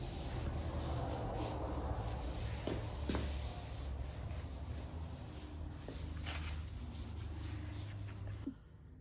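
A cloth rubs steadily across a Jeep Grand Cherokee body panel, wiping on Prep-All wax and grease remover in a continuous close scrubbing hiss with a few firmer strokes, ending abruptly.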